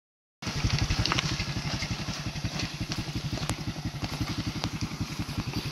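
A motorcycle with failed brakes, only the foot brake left, runs its engine at a steady, close idle-like putter on a muddy, rutted village road in a forest area.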